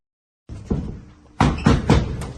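Police knock and bang on a door during a drug raid in Turkey: one thud, a pause, then three loud, sharp hits close by, with no speech.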